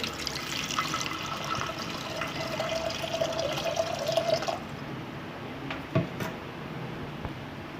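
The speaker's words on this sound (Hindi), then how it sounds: "अब इसमें हम पानी डाल के" Water runs steadily into a cooking pot for several seconds while making black chickpea curry, then stops, followed by a couple of small clinks and drips.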